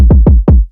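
Three quick, booming drill beat kick drum hits in a row, deep and punchy with a gliding low tail, heard up close and loud.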